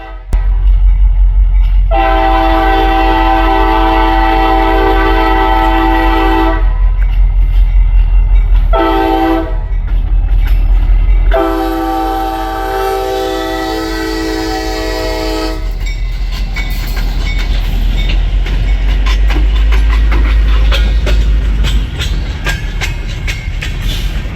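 A freight train's locomotive sounds a P5 horn from a park in Pennsylvania: three loud, sustained chords, the middle one short, then rumbling rail clatter as the train passes.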